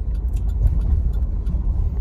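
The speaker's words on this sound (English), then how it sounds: "I'm driving" A car driving along a road at high mileage, around a quarter million miles, with steady low engine and road rumble filling the interior throughout, no talking heard.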